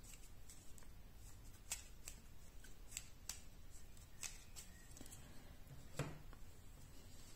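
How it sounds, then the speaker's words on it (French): Playing cards from a discard pile are shuffled by hand during a solo tabletop card game: a quiet, steady riffling rustle with repeated crisp snaps of cards, close and soft, with no talk. "Donc je remélange mes cartes de ma défausse."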